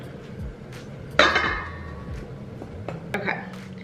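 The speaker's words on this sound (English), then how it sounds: "Okay, so I am mixing this together" Dry ingredients are mixed into wet batter for gluten-free cinnamon rolls in a bowl, with a sharp clink of utensil against the bowl followed by softer scraping and occasional taps.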